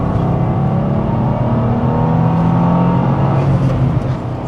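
Subaru WRX tS drives and accelerates with a steady, loud engine drone and rising harmonic tones, continuous throughout and heard alone.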